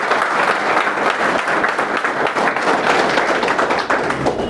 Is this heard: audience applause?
yes